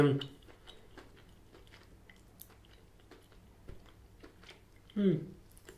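Galaxy Duet cookies and cream chocolate being chewed, with soft crunchy bites near the mic at the start and again near the end, quiet in between.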